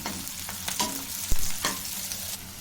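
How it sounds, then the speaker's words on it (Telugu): Chicken pieces fry with spices in a pan for chicken chukka, giving a steady close sizzle broken by a few scraping stir strokes and clacks. No talking. "ఇవి బ్రౌన్ కలర్ వచ్చే వరకు వేయించుకోవాలి."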